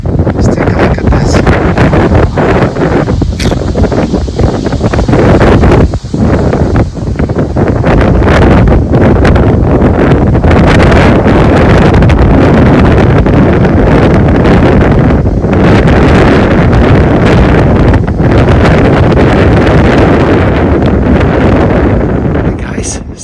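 Strong wind at Cypress Hills buffeting the microphone, loud continuous roaring gusts with rustling, sustained throughout with only brief dips.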